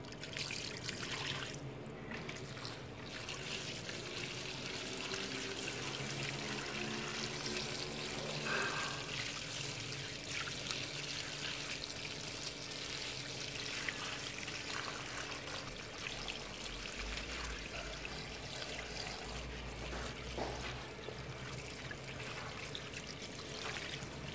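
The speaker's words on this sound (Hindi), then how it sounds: "इन्हों ताज़े पानी नाल धो लांदे।" Water runs and splashes steadily nearby as bitter gourds are washed in fresh water, with light handling and rinsing sounds mixed in throughout.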